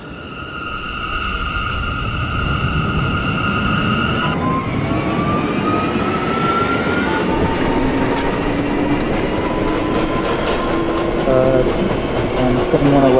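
An R179 C local subway train in the openBVE simulator rumbles and clatters along the track, loud and continuous, with rising and falling motor whine tones that shift as it gets underway.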